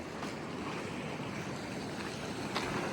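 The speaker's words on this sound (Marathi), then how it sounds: "समुद्रात ह्या ज्या समुद्रातून येणाऱ्या ज्या लाटा आहेत त्या खडकांवर आदळत आहेत आणि त्याचा एक वेगळा नाद आपल्या कानी पडतोय" Sea waves break against the rocks of a jetty at Borya harbour on the coast, a steady, dense roar of surf and wind that runs unbroken throughout, with no voices.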